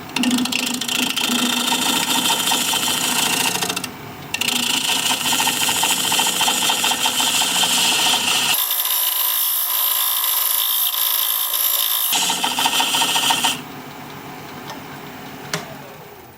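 A wood lathe spins a flower pot blank while a parting tool cuts into it: a steady mechanical whir with gritty cutting noise. It briefly drops near four seconds, changes character midway, then grows quieter toward the end. No one speaks.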